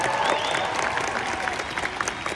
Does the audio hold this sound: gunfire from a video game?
no